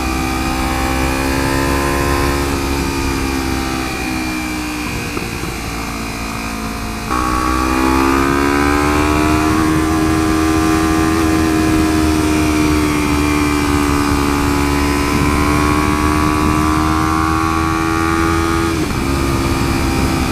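Kawasaki Ninja 300 motorcycle fitted with Woodcraft clip-ons, engine loudly revving and pulling through quick-shifted gear changes with brief tone drops between gears, heard close under wind noise with no talk.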